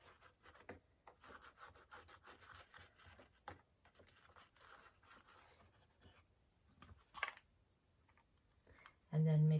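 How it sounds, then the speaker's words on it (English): Scissors cut old denim jeans fabric along a marked line, giving quiet repeated rasping snips and rubbing, close but faint, with no talking during the cuts. "So I will cut on that line."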